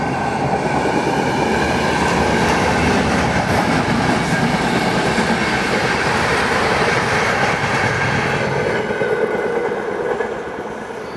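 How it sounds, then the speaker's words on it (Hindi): A Supaul Pune Express, formerly the Danapur Pune Superfast, rumbles past close by in India, a steady loud roar of rolling wheels and clattering coaches that holds throughout and fades slightly at the end. "ये है Supaul Pune express x Danapur Pune superfast"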